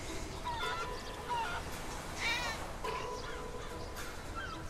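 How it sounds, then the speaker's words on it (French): A chicken in GTA V clucks and squawks in a series of short, irregular calls. The calls sound fairly close and sit over a constant background of game ambience. "Oh, une poule."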